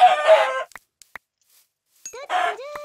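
Electronic video game chicken clucks and squawks in two short bursts separated by a quiet gap, clear and close.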